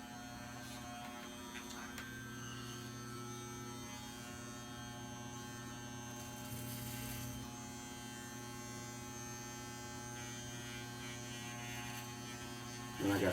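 Electric hair clippers buzz steadily through a DIY fade haircut at home, with a constant close-up drone and little change in level.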